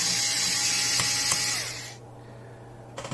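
Quick clicking ratchet-like turns of a 4-way screwdriver work screws loose, close and fairly faint over a steady background hum, then stop abruptly into near quiet before a few small knocks.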